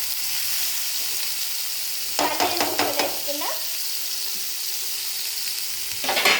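Paneer pieces sizzle steadily in a hot pan while a spatula scrapes and stirs them, with a louder burst of stirring clatter midway and again near the end.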